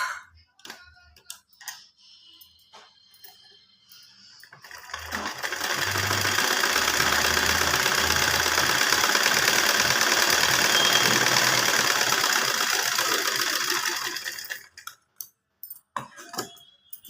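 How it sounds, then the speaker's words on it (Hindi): Sewing machine stitching a pocket onto elastic-waist pants, a steady close whirring hum running for about ten seconds, framed by a few handling clicks before and after. "सिलाई लगाएंगे।"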